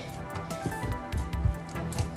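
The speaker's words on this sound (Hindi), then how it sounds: "यहाँ पर तकरीबन मैंने इसको 4 मिनट गूंद लिया।" Wet hands knead samosa dough in a home kitchen, giving soft, quiet squishing and slapping presses in an uneven rhythm, close up with no talking.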